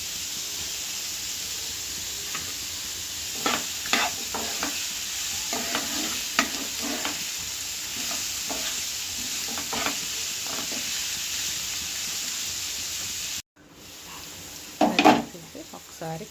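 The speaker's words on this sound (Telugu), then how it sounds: "అన్నీ వేగింది కాబట్టి బీట్రూట్ ముక్కలు, క్యారెట్ ముక్కలు కూడా వేసుకొని ఫ్రై చేస్తాను." Beetroot and carrot pieces fry with curry leaves in a pan, a steady close sizzle broken by repeated scraping stirs, then a short pause before more stirring.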